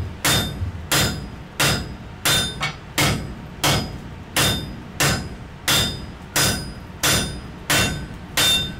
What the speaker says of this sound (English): Now the flat of the hammer.